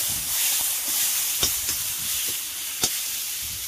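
Spices sizzle steadily in a hot pan for a pork intestine dish, a continuous bright frying hiss with a few soft stirring clicks and pops, close and alone without talk.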